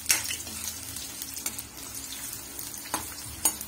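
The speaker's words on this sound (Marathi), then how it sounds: "ते आता आपल्याला जरा तेलामध्ये परतून घ्यायचे।" Dried Bombay duck fish sizzles steadily in hot oil, a soft close crackle with occasional sharper stirring scrapes, and no voices.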